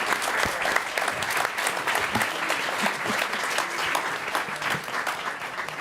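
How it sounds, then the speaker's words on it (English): Audience applause for panelists at an indoor event, sustained dense clapping of a modest crowd, fairly close and even throughout, with no talk over it. "Can we get another round of applause for our panelists?"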